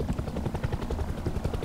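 A video game helicopter's rotor chops rhythmically and steadily at close range, a continuous thumping whir with no voices.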